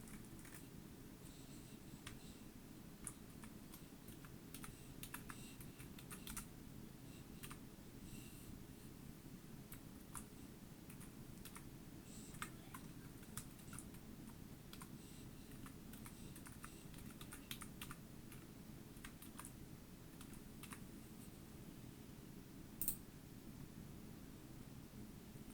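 Someone typing a password on a computer keyboard, soft irregular key clicks scattered over a quiet background hiss, faint and close, no voices.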